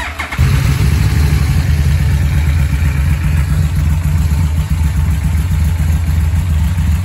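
A Yamaha VMax motorcycle cranks briefly and fires, then settles into a loud, steady, deep idle rumble close by, running evenly for several seconds.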